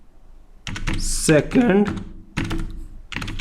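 Typing on a computer keyboard: bursts of quick key clicks, close and fairly loud, with someone speaking in between.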